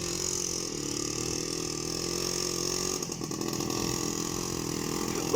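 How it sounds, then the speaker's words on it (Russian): A quad bike (ATV) drives through a forest, its engine droning steadily and close throughout, with a brief rough stutter midway and no talking. "Квадрик едет."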